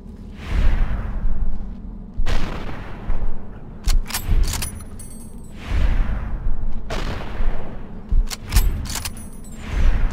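Incendiary rounds fired in the video game Fallout: New California, a few heavy bursts of gunfire with whooshing tails and mechanical clicks between them, recurring every couple of seconds, fairly loud and close.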